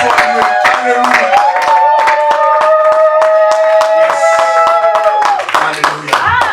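A church congregation claps steadily and rhythmically, acclaiming the Lord, under loud sustained singing or shouting voices throughout.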